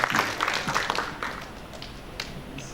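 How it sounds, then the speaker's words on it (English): Audience applause for a presenter at an international materials and metallurgical engineering conference: a brief burst of clapping that thins out and fades within a few seconds. "Give a big applause for Professor."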